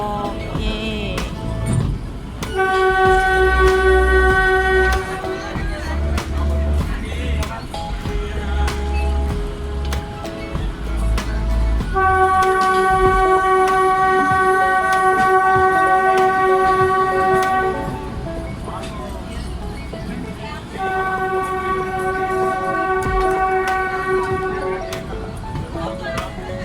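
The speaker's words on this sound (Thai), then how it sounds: "นี่นะคะคือโมเมนต์ที่รถไฟกำลังจะออก" Kalka-Shimla toy train in India pulling out, its horn sounding in long tonal blasts several times over rumbling carriages and station bustle.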